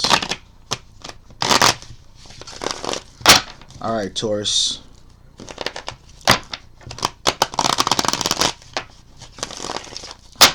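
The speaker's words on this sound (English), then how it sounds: "Let's get a good shuffle in." Crisp, rapid tarot card shuffling in repeated bursts, close up, with a person talking between and over the riffles.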